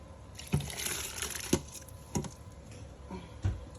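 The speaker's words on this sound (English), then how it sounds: "The textures of the beans is nice, so this is the time to add the rice" Rice being poured into a pot of cooked beans, with several wet splashing and patting thuds at irregular intervals over a soft liquid bubbling background.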